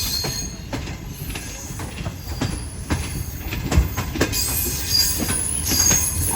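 The Shalimar Express rolls into Faisalabad railway station on the Lahore to Karachi run, with loud rumbling carriages, clacking wheels and repeated squeals of braking wheels.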